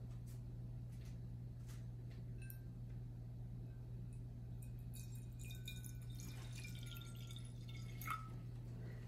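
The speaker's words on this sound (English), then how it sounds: "we're just gonna add some water to the plate" Water poured and dripping onto a plate during a children's science demonstration, light trickles and drips over a steady low hum, with a brief clink near the end.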